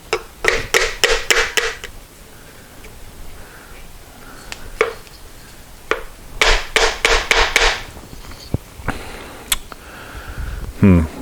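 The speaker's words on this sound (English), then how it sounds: "Let's see if we can tap on it and get it off there." A piece of wood tapping on a stuck part of a 1973 Moto Guzzi motorcycle in a workshop, two quick bursts of about six sharp knocks each, loud and close, with a few scattered taps between.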